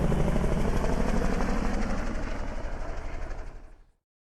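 A GTA Online helicopter roars close with fast, rhythmic rotor chop and engine whine, holding steady and then fading quickly to silence as it lifts away.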